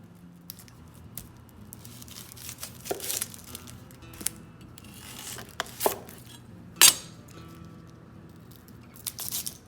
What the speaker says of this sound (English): Peel and skin the onion.